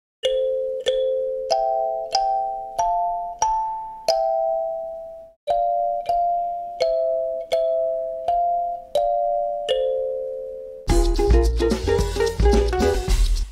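A kalimba sounds a slow series of bright, ringing paired notes from two adjacent tongues, each decaying gently, followed by a denser, louder burst of notes at the end.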